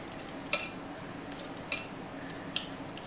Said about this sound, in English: I'm just going to mix it up a bit